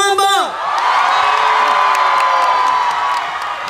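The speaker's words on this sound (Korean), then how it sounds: "함성 한번" A festival concert crowd at the opening ceremony of the Bonghwa Sweetfish Festival bursts into loud, sustained cheering and whooping, many voices together filling the space close and continuous after a voice briefly addresses them.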